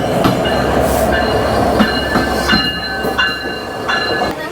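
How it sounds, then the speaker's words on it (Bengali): Ekota Express locomotive and train in Bangladesh on a crowded Eid journey, giving a steady loud rumble with rail clatter and thin, high wheel squeals recurring throughout. "এটি হচ্ছে আমাদের একতা এক্সপ্রেস ট্রেনের লোকোমোটিভ।"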